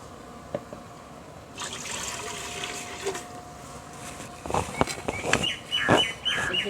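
Water trickles and pours into an idli steamer pot on a stove, set up for steaming kolukattai dumplings, with a steady wash of liquid sound and bird chirps in the background toward the end.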